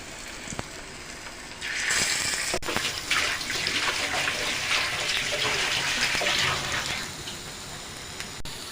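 Lentil fritters fry in a small amount of oil with a steady, loud crackling hiss that starts a couple of seconds in and runs continuously, with no voices over it.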